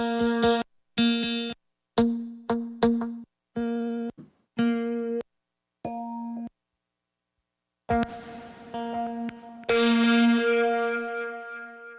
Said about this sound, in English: We're gonna turn this into an electric guitar, okay?